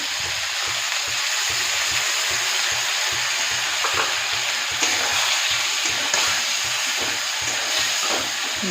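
Spice paste frying in oil for Kashmiri dum aloo, a loud steady hiss and crackle of hot oil up close, with soft rhythmic stirring underneath throughout.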